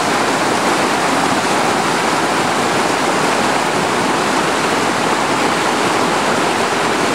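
Stream rushing past trees that washed off the bank and fell across it, a loud, constant, dense roar of flowing water filling the whole clip without pause or voices.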